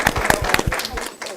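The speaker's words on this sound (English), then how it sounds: "Could you give them a round of applause," An audience applauds in a short burst of dense, rapid clapping, close and fairly loud, with voices mixed in.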